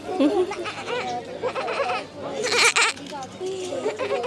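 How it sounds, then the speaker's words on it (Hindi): A goat bleats repeatedly at a roadside stop in the desert near Jaisalmer, its wavering, nasal cries close and fairly loud, mixed with people talking and chattering nearby. "शीप नहीं है, बकरी।"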